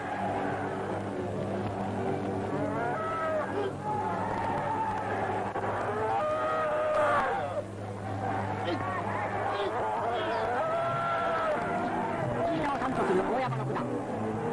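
A fighting bull bellows during a bare-handed karate bout, its long moaning calls rising and falling beneath a steady low hum and crowd noise, with a narrator talking over much of it.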